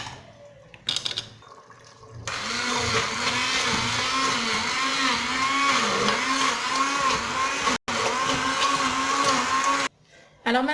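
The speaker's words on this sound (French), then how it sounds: "Maintenant, je vais mixer tout ça." An electric blender purees cooked pumpkin and carrot, running loud and steady for several seconds with a wavering motor pitch, with brief pauses and a short stop near the end.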